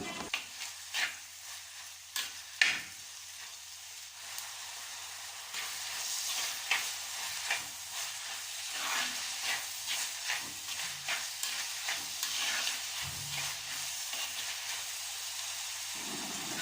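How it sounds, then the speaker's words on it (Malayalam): Sliced onions being stirred and sautéed in a pan for a Kerala egg roast, with a soft hissing sizzle and a series of light rhythmic scraping taps from the spoon, fairly quiet and close, with no talking. "ഇനിയും ഇതിൻ്റെ കളറൊന്ന് ബ്രൗൺ നിറമാവുന്നത് വരെ നല്ല രീതിയിൽ നമുക്കൊന്ന് ഇളക്കി കൊടുക്കാം"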